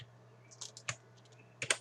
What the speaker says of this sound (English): Hold Shift in your keyboard and right button click.